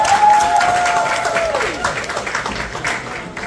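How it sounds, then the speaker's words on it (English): Guests applaud at a sweet sixteen birthday party, a few seconds of crowd clapping with a voice gliding downward and scattered cheers mixed in. "Clap for yourselves."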